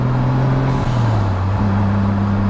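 An old project car's engine idles loud and close, a steady low rumble with a slight dip and shift in pitch partway through.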